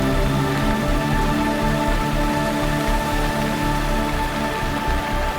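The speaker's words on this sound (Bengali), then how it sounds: "এখানে খুব বৃষ্টি হচ্ছে" Steady, dense downpour of heavy rain hissing on surfaces, continuous and fairly loud throughout with no voices.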